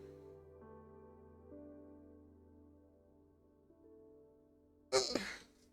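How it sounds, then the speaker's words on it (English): A single sharp human sneeze bursts out near the end, loud and close, after several seconds of soft game music playing alone. "Oh my god, I hate sneezing like that."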